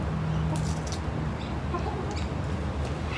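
A chicken clucks steadily up close, its short calls repeating over a constant noisy background with no talk.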